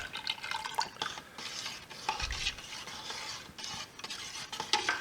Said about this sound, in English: We'll stir that in real well.